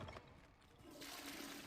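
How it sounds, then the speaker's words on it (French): A toilet flushing in the wizarding game Hogwarts Legacy, a quiet rushing, gurgling surge of water that builds halfway through and continues steadily, faint and alone. "Tu peux tirer la chasse d'eau."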